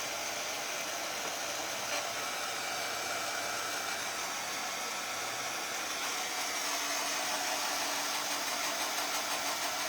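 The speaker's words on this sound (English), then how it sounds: "let me just dry this one and get the sticker off" A hair dryer blows steadily and loudly throughout, drying a Dollar Tree craft piece for a Valentine's Day house makeover, with a constant broad whoosh and no talk.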